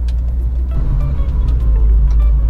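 An old Toyota Kijang Super being driven, its engine giving a loud, steady low rumble inside the cabin with a little road noise above it and no talking.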